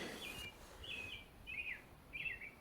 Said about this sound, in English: I think those are robins that are singing.